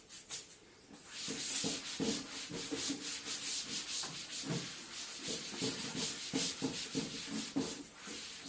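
Rubbing strokes of an eraser or cloth across a classroom board, repeated scrubbing passes in an uneven rhythm, fairly close and steady with no talk over them.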